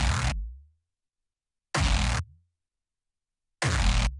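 A nasty distorted kick drum processed with the UVI Shade effect hits three times, each a loud, booming thump with a gritty, fuzzy tail that cuts off into silence between the widely spaced hits.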